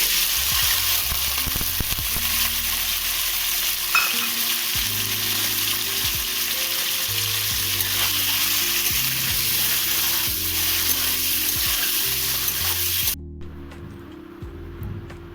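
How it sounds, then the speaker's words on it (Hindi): Paneer fries in hot oil in a kadhai, a loud, dense, continuous sizzle close up with occasional scraping and stirring, dropping abruptly near the end. "पहले पनीर को थोड़ा सा फ्राई कर लेते हैं, इसी में डाल देते हैं पनीर।"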